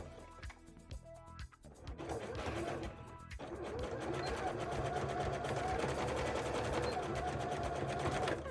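A sewing machine stitches zigzags on a bra, a fast steady mechanical whir that builds and holds after a few seconds of handling noises and clattering, with a voice speaking over part of it.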